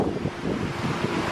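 Strong wind roars steadily across a microphone at an outdoor mini golf course, a continuous broadband rumble with gusty surges throughout and no voices.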